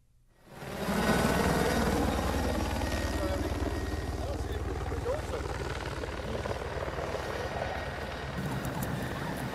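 An army helicopter's steady rotor thrum rises quickly and then holds loud and close, a continuous chopping drone that fills the whole stretch without fading.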